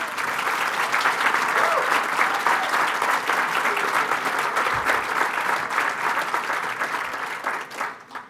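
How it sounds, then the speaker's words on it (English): Dense, sustained audience applause at an awards ceremony, loud and steady for about seven seconds before thinning into a few scattered claps near the end. "please give him a round of applause"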